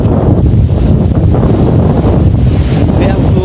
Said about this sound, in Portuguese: vento mandando muita força